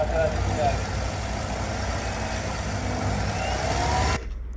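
A car engine runs steadily at 2,000 rpm during an alternator load test, a continuous loud drone that cuts off abruptly near the end, leaving a quieter idle.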